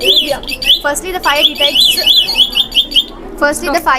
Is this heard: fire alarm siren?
yes